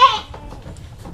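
A Jawa Randu goat on a Lampung goat farm gives a short, loud bleat at the start, followed by faint farm background noise.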